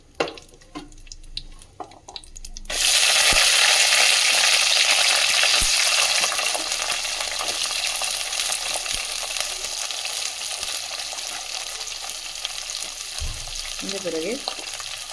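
Small onions drop into hot oil for a South Kerala-style cashew nut kurma, setting off a loud, steady sizzle that bursts in suddenly after a few quieter kitchen knocks and keeps crackling close by, with occasional stirring clicks.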